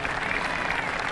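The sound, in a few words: crowd applauding golfer Morgan Pressel at the 18th green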